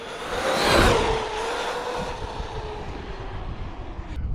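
An E-Revo RC truck, running stock on two 3S 5000 batteries, tears past at full throttle, its whining motor swelling quickly to a close peak and then fading into a lingering rush of noise.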